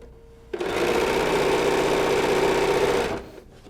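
A sewing machine stitches chained quilt rows with a loud, close, steady mechanical whir that starts abruptly, runs about two and a half seconds and then winds down.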